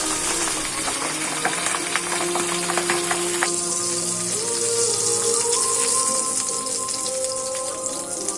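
Pabda fish frying in hot oil, a steady dense sizzle with crackling pops that stays loud and continuous throughout, with no talking.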